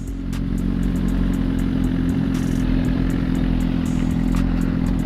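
A Suzuki GSX-R1000 superbike's engine runs steadily at idle in neutral, a loud, close, even mechanical drone with a rapid rhythmic pulse and no voices over it.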